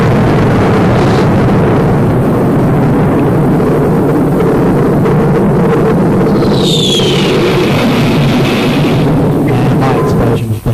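A loud, sustained explosion sound effect from a radio show, a dense roaring rumble that fills the whole clip with no speech, and a brief whistling streak partway through.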